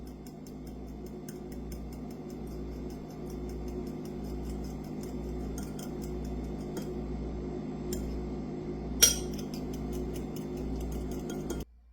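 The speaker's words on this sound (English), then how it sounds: "we're going to beat the eggs" Eggs are beaten in a bowl with quick, light, rhythmic ticking strokes, faint and steady at close range, with one sharper clink near the end.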